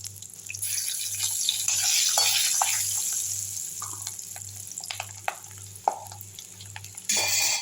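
Garlic fries for beetroot chutney, a soft continuous sizzle in a pan with scattered stirring scrapes and faint clicks over a low steady hum, no voices.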